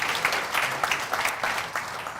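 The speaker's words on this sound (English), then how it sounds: "I would like us to give every single woman in the room a magical round of applause for everything you do" A room of guests at a business women's awards event applauds, a dense, fairly close burst of clapping that swells and dips across two seconds.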